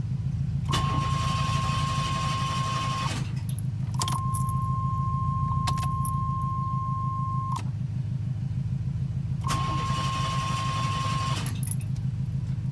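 Repeated bursts of a third-generation Chevrolet Camaro engine cranking without catching, each lasting a few seconds, with a steady warning chime tone running over the attempts.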